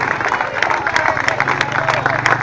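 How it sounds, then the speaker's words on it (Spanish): A church congregation claps and applauds, a dense stream of hand claps mixed with crowd murmur and a voice over the top, lively and close. "Vamos a darle un aplauso al Señor esta noche."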